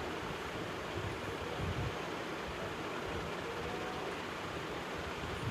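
Oil sizzles in a pan of frying masala with dried-out onions, a continuous hiss and crackle that stays close and steady throughout, with no voices.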